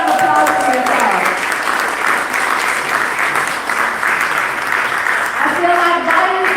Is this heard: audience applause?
yes